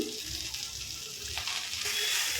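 Onion chutney ingredients with a handful of mint and coriander frying in a pan on a stove, giving a steady, soft sizzle and hiss that runs throughout with faint stirring, no voices.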